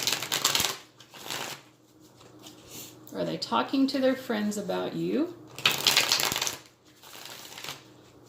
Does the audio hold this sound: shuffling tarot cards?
yes